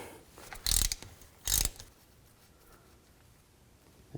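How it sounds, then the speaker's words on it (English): A ratchet on a 3/8 extension works the rear axle fill plug of a 2000-2006 Chevy Tahoe. It gives two short, close, crisp clicking bursts, then a quiet stretch. "So just use a 3/8 extension and a ratchet."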